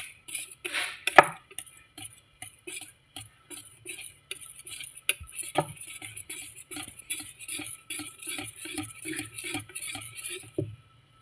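Cream cheese batter for a burnt Basque cheesecake being whisked with room-temperature whipping cream in a bowl: steady, rhythmic clinks and scrapes of the utensil against the bowl's sides, close and fairly quiet, with no one speaking.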